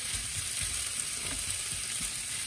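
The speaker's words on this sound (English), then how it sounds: "So we just cook in the low heat." Soya meat with coriander powder cooks in a pan over low heat, giving a steady, close sizzle with a faint crackle and occasional soft stirring, no voices.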